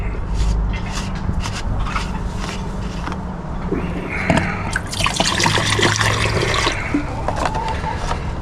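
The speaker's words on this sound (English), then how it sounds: "I'm going to put some hydrochloric acid in there and give it a boil" Hydrochloric acid being poured into a vessel holding gold flat packs for boiling, a running, trickling liquid pour with splashes that swells midway, close and fairly loud with faint background noise.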